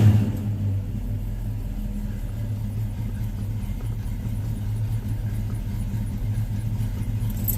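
Car engine idling with a low steady rumble and a faint ticking from the lifters, heard close and fairly quiet throughout without speech.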